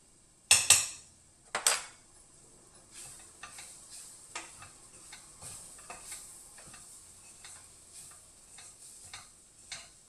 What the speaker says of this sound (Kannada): ಈಗ ಚೆನ್ನಾಗಿ ಕಲಿಸ್ಕೋಬೇಕು ಚೆನ್ನಾಗಿ ಕೆದಕಿ